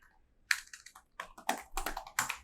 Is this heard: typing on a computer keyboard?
yes